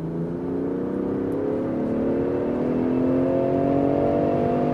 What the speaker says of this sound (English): let's see what the accelerations are like with this vehicle